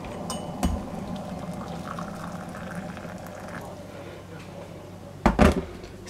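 Boiling water is poured for a homemade powdered cappuccino, a steady close trickling wash broken by a soft knock early on and a sharper clatter near the end.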